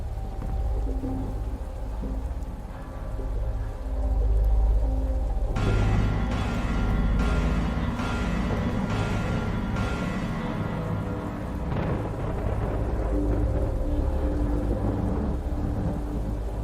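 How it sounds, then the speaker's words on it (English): Steady heavy rain pours down while rolling thunder rumbles through a thunderstorm, with a long deep roll and several crackling bursts in the middle. "Sparrow presents Thunder and Lightning. Very, very frightening"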